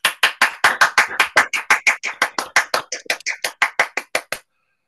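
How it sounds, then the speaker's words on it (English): One person clapping hands in front of a screen, around two dozen crisp, close claps in a brisk, fairly even rhythm that stops abruptly, leaving silence. "I always opt for the old-fashioned way of clapping hands, even in front of the screen"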